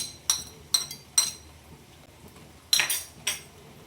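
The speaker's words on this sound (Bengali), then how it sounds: "একটু নাড়বো আদা রসুন বাটা দিয়ে।" A utensil scrapes and clinks against a cooking pan, stirring ginger garlic paste on low flame while cooking chicken, making five sharp, close metallic taps spaced unevenly over quiet background hiss.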